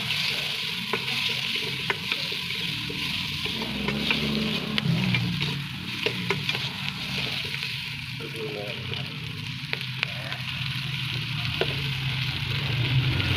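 Onion and tomato sautéing in oil for pork sinigang, a steady hiss of frying with occasional light stirring clicks, close and continuous, with a voice speaking over it.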